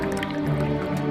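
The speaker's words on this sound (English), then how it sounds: "Water is used as a timing mechanism in the machine." Water dripping and trickling into a vessel in a reconstructed ancient water-timing machine, a scaled-up replica of an alarm clock, with steady wet drips over a continuous filling sound.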